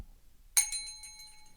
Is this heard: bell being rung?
yes